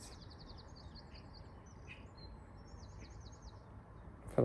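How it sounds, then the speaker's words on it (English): Small birds chirp and twitter in quick repeated trills at a distance, faint against a low background hiss, ending with a sudden close knock. "I can hear a bird"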